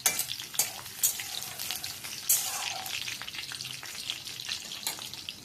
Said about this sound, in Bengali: রসুনটা তেলের মধ্যে একটু ভেজে নেব